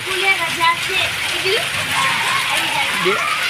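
Steady rain falling in Dhandhuka, a continuous even hiss of drops throughout, with people talking over it nearby.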